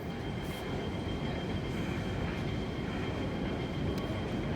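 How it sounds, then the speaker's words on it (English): A light rail train at Tin Shui Wai station gives off a steady, loud rumble with broadband rail noise that holds level throughout, and no voices are heard. "Please mind the gap between the train and the platform."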